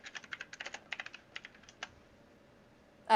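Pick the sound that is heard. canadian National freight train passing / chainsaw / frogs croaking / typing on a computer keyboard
typing on a computer keyboard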